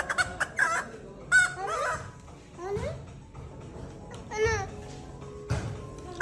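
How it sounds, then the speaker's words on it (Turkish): A squeaky bicycle horn gives a series of clucking, chicken-like honks in short bursts, with a voice babbling in between. "Tavuk gibi ses yapıyor onun korna."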